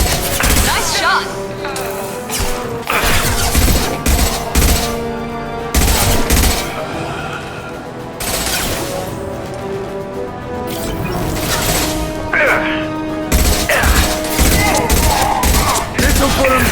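Repeated bursts of sci-fi gunfire in the video game Mass Effect 2, loud and near, coming in clusters with brief gaps, mixed with game music and voices talking.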